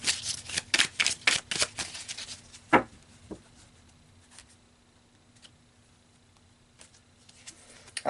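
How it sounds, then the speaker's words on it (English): Tarot cards are handled and pulled: a quick burst of close riffling shuffle snaps, then a few isolated card slaps and soft taps that fade into near quiet. "So let's keep pulling cards."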